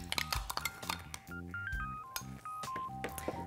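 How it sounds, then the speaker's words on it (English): A spoon stirring Creole seasoning, salt and pepper in a bowl gives a run of close, quick clinks and scrapes against the dish, with no talking. "We'll just stir that up."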